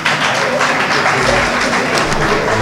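An audience at the opening of a workshop on the Fourth Republic in Mali applauds, with dense, sustained clapping filling the room steadily from start to finish, loud and close.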